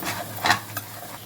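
Cashew chicken masala being stirred in a pan, a close scraping stir with two sharper strokes over a soft background sizzle of frying.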